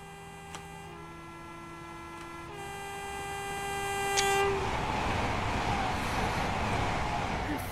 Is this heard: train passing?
yes